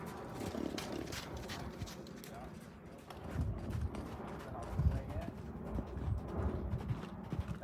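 Horse loping in a riding arena, soft rhythmic hoofbeats thudding close by under a voice as he talks.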